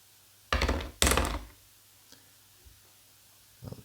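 Dice rolled for a tabletop basketball dice game, two quick loud rattling tumbles across a hard surface followed by a few faint clicks as they settle, with no talk.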